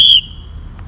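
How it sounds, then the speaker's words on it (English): A referee's whistle blows once, short and piercing, to start a paintball game, followed by low outdoor rumble. "at the sound of my whistle"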